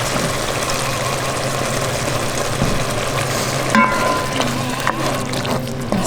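Spoon stirring a thick white wine sauce loosened with nut milk in a pan, a steady low scraping and bubbling wash that runs without pause, with a few brief clinks near the end.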